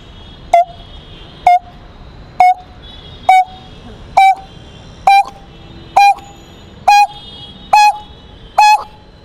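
A man imitates the coppersmith barbet's call, a series of about ten evenly spaced, sharp metallic notes repeated at a steady rhythm, loud and close with nothing else in between.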